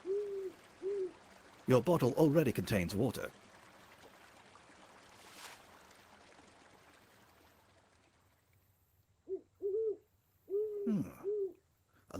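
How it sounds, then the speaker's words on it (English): An owl hoots in the video game Colossal Cave, repeated soft two-note calls at the start and again near the end, with a voice speaking briefly in between. "A large owl seems to be watching you."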